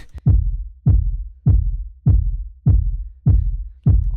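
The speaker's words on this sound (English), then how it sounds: "in intro I have this kind of rumble kick" A deep, booming kick drum hits seven times at a steady tempo, each thump with a long rumbling low tail, loud and alone.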